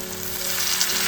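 Onions frying in a pan give a steady, close hiss of sizzling oil with a faint crackle, continuous and alone for about a second.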